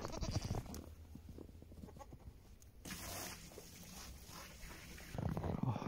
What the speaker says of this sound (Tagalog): Itong feed ng mga goat. Kasi kanina pa sila nag-iingay.